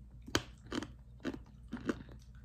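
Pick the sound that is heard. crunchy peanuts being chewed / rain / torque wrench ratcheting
crunchy peanuts being chewed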